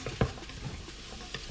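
Bell pepper and millet frying in an Instant Pot get stirred, a sharp utensil scrape against the pot followed by soft steady sizzling and a few light clicks, close and brief.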